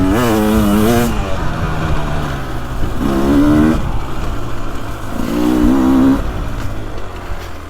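A 2024 Beta 300 Race Edition two-stroke dirt bike with its power valve preload turned out from stock revs loudly outdoors on a fall day, rising in three repeated blips over a steady idle.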